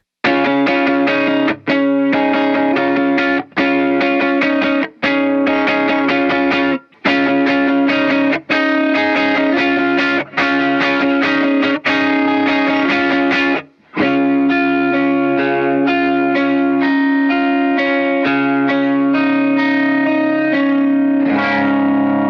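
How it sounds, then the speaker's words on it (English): Guitar chords run through an Electro-Harmonix octave pedal, bright and tinny with a warbly, metallic shimmer, strummed in bursts with brief gaps, then one sustained ringing chord. "The Electroharmonics octave stuff, and this includes like the pogs, can have a weird tinny kind of warbly sound"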